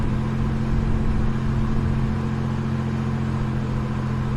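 A military truck drives through heavy rain, its engine a steady low rumble with a constant hiss of rainfall layered over it, loud and close with no breaks.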